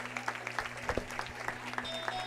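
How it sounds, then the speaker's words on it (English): A gym crowd gives a standing ovation at a basketball game marking a coach's 800th career win, with steady applause, scattered louder claps and a constant hum beneath. "a well-deserved standing O from the crowd"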